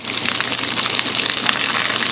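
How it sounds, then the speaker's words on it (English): Steady stream of water pouring from the fully open tap of a Camplux tankless water heater in a tiny house, a continuous close hiss and splash with no pauses. "you see that's a good steady stream of water coming out of there"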